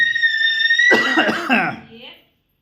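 A few harsh, close coughs burst out in quick succession after a steady high tone, then trail off into silence.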